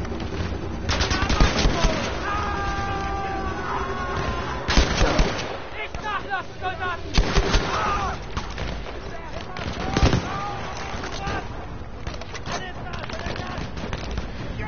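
Battlefield V gunfire: sustained bursts of machine gun fire mixed with single shots and heavy blasts, loud and close, arriving in irregular clusters for nearly fifteen seconds, with game sounds and a brief tonal effect beneath.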